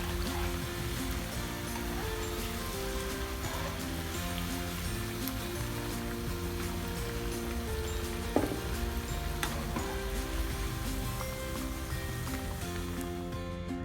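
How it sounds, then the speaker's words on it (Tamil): Cauliflower pakoda deep-fries in hot oil, a steady dense sizzle and bubbling crackle running evenly throughout, close and continuous with a brief clink partway through. "காலிஃப்ளவர் நல்லா ஃப்ரை ஆகிடுச்சு, இப்போ எடுத்துடலாம்."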